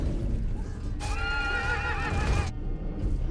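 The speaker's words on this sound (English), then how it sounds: "All these poor horses." Horses in the film 300 let out a loud, shrill whinny lasting over a second, set against a rumbling background of hooves and battle noise.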